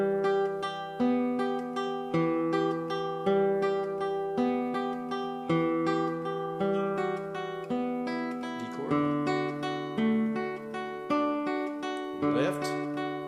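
Classical guitar plays a Granadinas passage, rapid tremolo notes ringing over a steady thumb bass line, close and clear, ending with a brighter strummed flourish.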